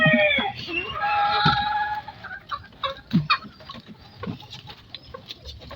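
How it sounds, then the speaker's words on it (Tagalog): Chickens and young chicks clucking and peeping on a farm during feeding, with several close calls in the first two seconds, then scattered pecking and rustling sounds. "Dati ang liliit pa niyan mga sisiw na ngayon, nalalaki na."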